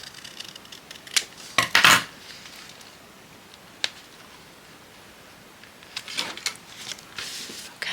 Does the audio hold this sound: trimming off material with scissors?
yes